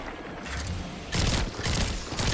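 Gunfire in an online multiplayer shooter match on the Scarlet Keep map, bursts of rapid shots in two loud clusters with short gaps between, no speech.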